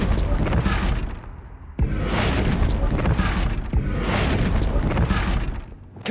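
Confringo explosion spells in Hogwarts Legacy go off as loud crackling, shattering blasts, two or three bursts close together with sharp onsets and debris-like noise filling the whole stretch.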